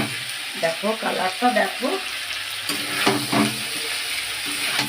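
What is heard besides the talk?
chopped tomatoes being stirred and fried in a pan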